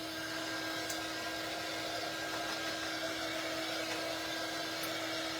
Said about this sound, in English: Let's hit it with the dryer.